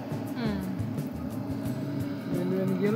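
A car moves along a road with a steady engine drone and tyre rumble, with brief tonal sweeps rising and falling near the start and end and a voice talking faintly underneath.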